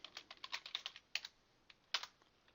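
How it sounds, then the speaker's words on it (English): Computer keyboard keys tapped in a quick irregular burst, then a pause and a couple of final isolated keystrokes, close and fairly quiet with no talk. "type in a password."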